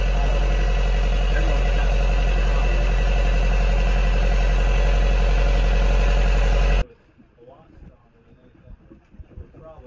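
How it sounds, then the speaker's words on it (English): A sailboat's engine runs at anchor as a heavy squall approaches, a loud, steady low idling drone that cuts off abruptly partway through, leaving quieter background noise and voices talking. "we're just running the engine because there's a pretty heavy squall that's going to come through"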